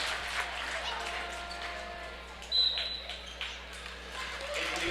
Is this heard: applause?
yes